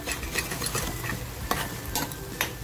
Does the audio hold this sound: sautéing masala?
yes